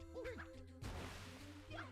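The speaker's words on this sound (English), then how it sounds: "For some reason, I'm smashing watermelons of all things." A watermelon is smashed with a bat in a video game, a sudden loud crash and splatter near the middle, with game music and tones before and after.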